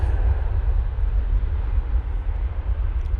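A Ryanair airliner departs for Belfast, its engines a steady, deep rumbling roar heard from a distance, with no voices over it.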